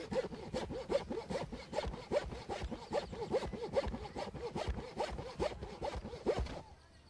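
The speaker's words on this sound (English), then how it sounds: "While George is sawing along that line" Hand saw cutting along a marked line in a roof for a roof turbine, steady rapid back-and-forth rasping strokes, close and fairly quiet, stopping just before the end.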